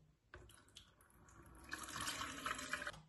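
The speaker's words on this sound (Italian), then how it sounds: "iniziamo col mettere in una ciotola 300 ml di acqua a temperatura ambiente" Room-temperature water, 300 ml, pours into a bowl for a savoury tart batter, starting with a soft splash and building into a steady trickling stream, faint and close.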